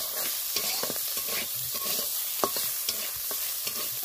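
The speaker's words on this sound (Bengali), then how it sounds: "চিকেনটাও একটু লাল হলে, একটু ভাজা ভাজা হলেই আমি তুলে নেব" Chicken fries in a pan with a constant close sizzle, overlaid by frequent stirring scrapes and small clicks throughout.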